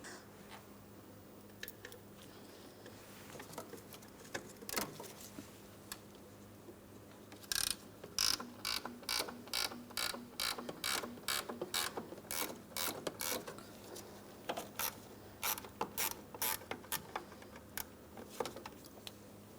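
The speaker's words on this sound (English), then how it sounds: "there isn't much room to get in with a socket, so I'm just going to be using a 15mm ratcheting wrench." A 15mm ratcheting wrench clicks rapidly in quick bursts while loosening a mounting nut on the brake master cylinder of a 2004-2008 Pontiac Grand Prix, close and distinct with no talk.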